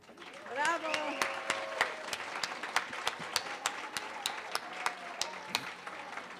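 An audience at an outdoor Hispanic heritage fiesta claps steadily after a band's performance, a moderately loud patter of applause with a few cheers early on.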